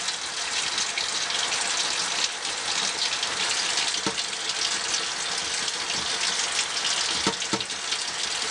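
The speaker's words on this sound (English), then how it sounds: "As you wash your brushes." Steady tap water runs continuously into a sink while makeup brushes are washed, a close, even gush with faint splashes and no talking.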